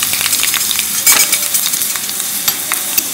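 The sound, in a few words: cumin, mustard seeds and dry red chilies sizzling in hot oil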